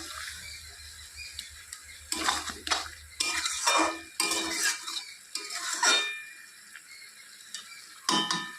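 A spoon clatters and scrapes in a pan of dried fish (shutki) curry cooking with a little broth over medium gas heat, in irregular bursts of metallic stirring separated by quiet gaps.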